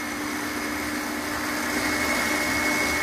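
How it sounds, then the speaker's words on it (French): An electric hand mixer whisking meringue for a pavlova, its motor turned up to a higher speed, gives a steady, continuous whirring drone that holds at an even level the whole time, with no talking. "Parce qu'avec le batteur on entend moins fort. Et là on monte la puissance."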